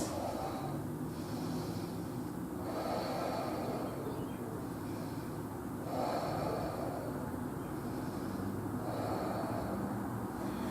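Slow, deep rhythmic breathing during a prenatal yoga side stretch, long inhales and exhales repeating roughly every three seconds, close and steady over a constant hiss with no talking.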